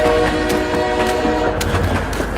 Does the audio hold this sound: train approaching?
yes